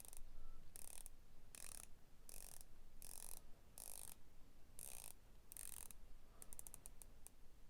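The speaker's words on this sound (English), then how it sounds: "there's a 120 click unidirectional bezel. I'll let you listen." A 120-click unidirectional ceramic bezel on a San Martin SN012-G dive watch is turned in quick bursts, each one a crisp run of fine ratcheting clicks separated by brief pauses and ending in a rapid flurry.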